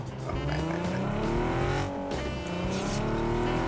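Car revving and racing along in PUBG, engine whining through rising gear sweeps with tire squeal, loud and close throughout with no talk.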